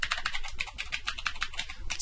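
A computer keyboard typed on continuously while entering a web address, with rapid, close, fairly loud clicking throughout.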